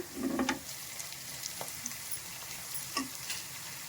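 Chopped green chillies fry in a pan with two spoons of ginger garlic paste for mutton gravy. The sizzle is quiet and steady, with a brief clatter at the start and a few light taps from stirring.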